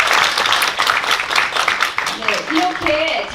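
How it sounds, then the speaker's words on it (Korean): An audience claps and applauds at a symposium of a Korean infant early intervention association, a dense burst of clapping that mixes with a speaker's voice and fades toward the end. "원장님께 큰 박수를"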